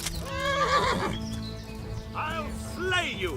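A horse whinnies twice in the medieval game Kingdom Come: Deliverance, with loud, shrill, wavering calls separated by a short pause over a low background rumble, and a player's voice partly overlapping.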